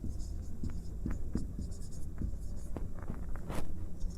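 Pen or chalk scratching steadily as an answer is written out during a physics lesson on concave mirror images, a close run of short strokes and taps with no speech over it.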